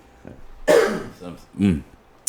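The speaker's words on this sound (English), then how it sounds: "sorry about the coughing" A few harsh coughs and a throat clear, close and loud, in quick succession with short pauses between.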